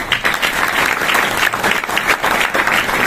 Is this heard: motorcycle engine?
no